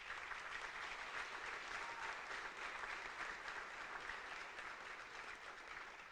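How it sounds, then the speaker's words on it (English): Steady applause from a graduation ceremony crowd at a military academy, sustained and fairly distant, with no speech over it. "Let's give them a round of applause"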